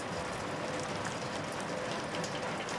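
Steady rain in the video game Shadows Over Loathing patters evenly across surfaces, a dense, constant hiss with no breaks or other sounds.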